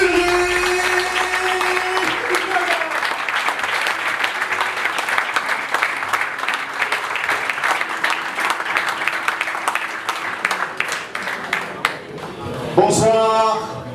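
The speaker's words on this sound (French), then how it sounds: "c'est maintenant que je vous invite à donner un tonnerre d'applaudissements pour le" A large audience applauds in a loud, sustained burst of dense clapping for a speaker introduced as the strategist Ulrich at an entrepreneurship training event; a voice comes in briefly near the end as the clapping fades.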